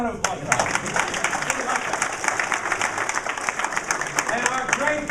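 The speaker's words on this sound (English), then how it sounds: "you give them one more round of applause." Dense audience applause and clapping at a political event in Seaford, steady and lively throughout, with people talking over it.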